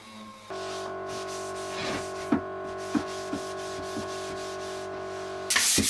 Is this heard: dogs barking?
no